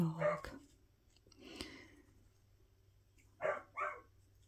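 A pet dog barking indoors, a few short barks spaced out over a few seconds, fairly close, with a quiet room hum between them.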